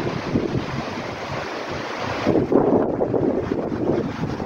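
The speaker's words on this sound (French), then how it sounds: "Il y a du vent, il y a du vent." Strong wind buffets and roars continuously across the microphone, rising into heavier gusts partway through.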